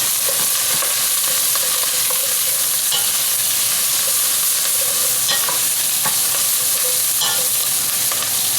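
Kale and turmeric sizzle and fry steadily in a hot pan, with a continuous bright crackle and occasional stirring clatter of a utensil, close up with no talking.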